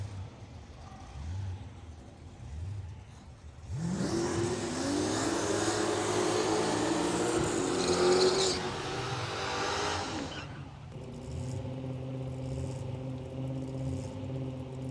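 A supercharged drag racing car at a heads-up road trip drag race goes from a quiet low rumble to a loud sustained roar for several seconds, then drops back to a steady droning engine note in the distance.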